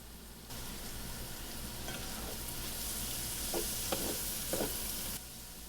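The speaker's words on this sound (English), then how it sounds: "the onions are starting to caramelize in the bacon fat" Onions fry in bacon fat in a pan, a steady close sizzle that swells after a moment, with a few brief scraping stirs near the end before it cuts back down.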